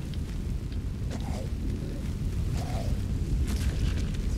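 In Skyrim, a fire spell burns enemies as a continuous, dense roaring rush of flame, loud and steady throughout, with a few faint crackles and whooshes on top.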